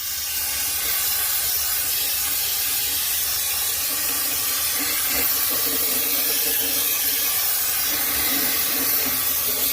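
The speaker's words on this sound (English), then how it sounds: "I just have regular brake cleaner and I'm just going to spray that in there." Brake cleaner sprayed into the rear Dana 44 differential of a Jeep Wrangler TJ, a steady, close broadband hiss holding without a break for about ten seconds, with no talking.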